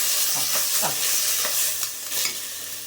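Rice and moong dal being stirred and dry-roasted in a pan for pongal, close scraping spoon strokes over a soft continuous sizzle, irregular and loud with no talking.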